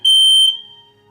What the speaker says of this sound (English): our fire alarm going off.